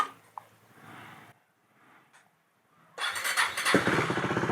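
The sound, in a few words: KTM Duke 390 motorcycle engine starting and idling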